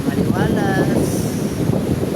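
Wind gusting at a beach resort, a broad roaring rush buffeting the microphone throughout, with a voice briefly heard over it.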